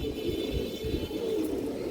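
Low, soft cooing from a breeding female pigeon runs steadily through the whole stretch, close and continuous, with faint chirpy bird sounds in the background.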